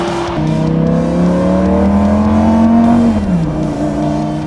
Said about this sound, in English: What a bad gear change.